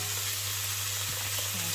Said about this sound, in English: we're going to let this fry, just stirring occasionally, for about 10 minutes